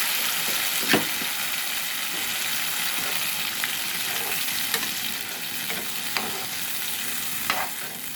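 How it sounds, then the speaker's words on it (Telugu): Cooked haleem dropped into hot oil in a Vijayawada-style kitchen fries with a steady broad sizzle. Occasional sharp spoon-scraping ticks punctuate it, and no one speaks. "ఈ ఆయిల్లో హలీం వేసేస్తాను. ఉడికించుకున్న హలీం అయితే వేసేద్దాం ఫ్రెండ్స్. ఈ కాగిన నూనెలో"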